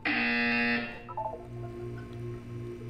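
Loud, steady electronic buzzer from the Portal 2 video game, sounding alone for just under a second before cutting off, leaving quieter low hum and faint game tones behind.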